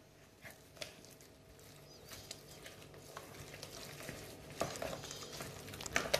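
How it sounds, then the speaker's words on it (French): Choux pastry dough being mixed with eggs gives faint, quiet sticky stirring and scraping, soft irregular strokes growing slightly louder toward the end, with no voices. "Je mélange."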